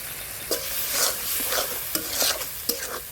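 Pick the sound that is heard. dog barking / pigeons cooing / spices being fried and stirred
spices being fried and stirred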